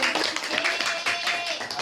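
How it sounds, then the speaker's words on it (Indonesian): Primary school pupils in a sixth-grade science class clap their hands together in a short, dense burst of clapping close by, with children's voices and cheering mixed in. "Berikan tepuk tangan."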